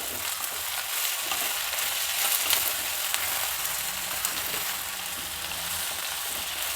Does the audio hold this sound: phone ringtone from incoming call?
no